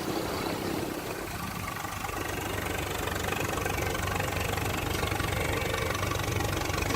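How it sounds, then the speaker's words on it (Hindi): An overloaded tractor's engine runs throughout a roadside stunt, a continuous loud, knocking diesel chug with no break and no talking. "किस तरीके से ट्रैक्टर से स्टंट बाजी की जा रही है। यहां पर पहले तो ये ट्रैक्टर ओवरलोडेड है"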